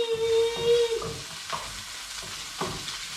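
Onion and garlic fry in a pan for garlic buttered shrimp, giving a soft sizzle broken by several scraping stirs, close and fairly quiet, with a brief tone at the start.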